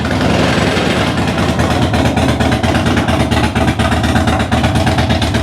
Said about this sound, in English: let's start it up and you're going to see this thing is not running right